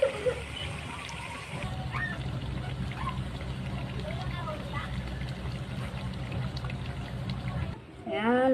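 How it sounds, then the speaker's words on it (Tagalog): Sliced banana coated in a flour, sugar and water batter cooks with a steady, continuous sizzle, while a person talks over it throughout. "Tapos iluto tayo ng hiniwang saging na may harina."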